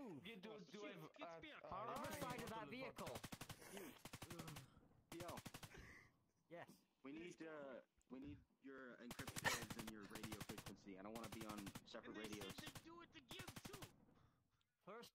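Rapid bursts of automatic gunfire crackle loud and close during a VRChat military-sim operation, several dense volleys alternating with speech from people talking between and over the shots.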